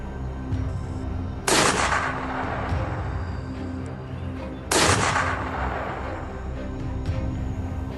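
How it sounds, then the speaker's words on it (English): Two loud rifle shots during a wild boar hunt, each a sharp blast with a long rolling echo through the surroundings, spaced about three seconds apart over steady outdoor background noise. "I also chose a favorable shooting angle and opened fire."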